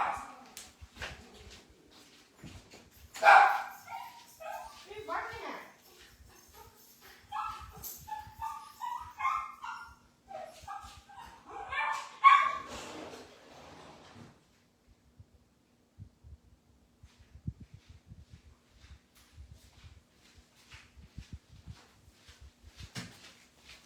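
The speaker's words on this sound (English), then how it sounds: "You hear him, right? You hear my dog?" A small dog barks and yips excitedly in bursts, moderately distant and somewhat faint, then quiets into scattered soft thumps and rustles.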